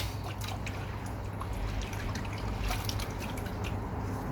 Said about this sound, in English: put a bit of water in